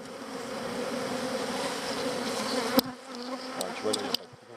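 A honeybee hive drones with a dense, steady buzz close by as frames are pulled for inspection, sharp knocks and clicks of handling breaking in near the end as the humming thins out.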